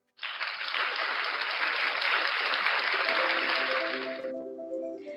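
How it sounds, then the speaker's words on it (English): A round of applause from an audience welcoming a speaker to a webinar, dense and steady for about four seconds before ending abruptly as a soft musical tone starts. "please help me welcome, with a round of applause, Miss Kirsten Bay Dico"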